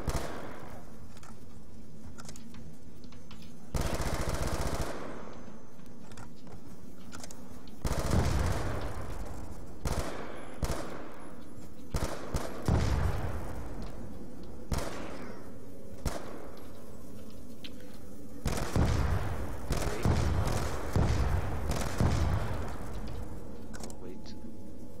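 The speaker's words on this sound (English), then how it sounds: "this gun runs out of ammo so fast" Gunfire in Call of Duty Black Ops II Zombies on the Town map, repeated loud bursts of rapid automatic shots separated by short pauses, with a player talking over the game.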